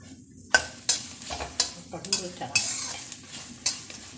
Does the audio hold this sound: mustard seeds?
yes